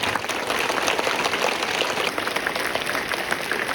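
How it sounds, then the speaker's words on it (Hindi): Steady, loud applause from a gathered crowd at a school flag hoisting ceremony, continuous dense clapping throughout with no pauses. "एक बार तालियां"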